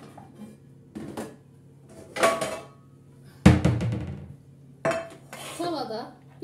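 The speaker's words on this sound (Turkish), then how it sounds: "Şimdi tavaya alıyorum." A whisked mixture is poured into a pan, producing several loud metallic clanks and clinks of a bowl and utensils against cookware, spaced out with quieter moments between, close by.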